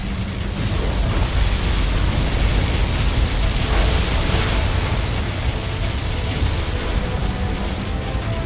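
A USA particle cannon superweapon blast in Command & Conquer Generals Zero Hour, a loud, steady roaring wash of noise that holds at full strength for the whole stretch without a break.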